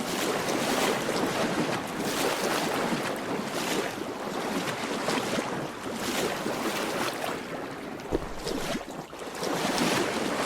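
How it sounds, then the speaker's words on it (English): Splashing footsteps wading through water in the horror game Liminophobia, a continuous rush of sloshing and churning water close up, steady and loud with no voices. "it sounds like there are things in the water with me when I walk"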